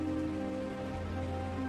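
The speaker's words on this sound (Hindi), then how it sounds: "अरे बेटा, इतनी तेज बारिश में कहाँ जाओगे?" Heavy rain pours down in a steady, dense hiss that stays constant throughout, with no voices.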